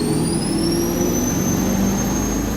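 An 800HP turbocharged 1958 Apache truck accelerates at full throttle, a loud, steady engine roar with a rising turbo whine climbing throughout, heard from inside the cab without talk.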